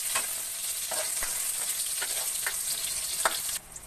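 Garlic, onion and ginger sautéing in a pan for sinigang na hipon at bangus, a steady close sizzle with a few sharp crackles and stirring scrapes, cutting off abruptly near the end.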